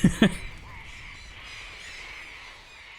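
A parrot in the video game Metal Gear Solid Delta lets out two quick, sharp squawks right at the start, then only a steady low background ambience remains.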